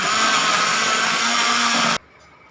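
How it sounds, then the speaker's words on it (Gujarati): Mixer grinder whirring as it blends cut mango with sugar into juice, a loud steady high-pitched motor whine that cuts off abruptly near the end, leaving quiet room tone. "આપણે ફરીવાર મિક્સર ફેરવી દઈશું"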